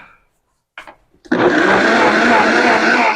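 A blender roars to full speed while blending roasted red pepper pasta sauce, a loud steady whir after a few brief clicks and bumps.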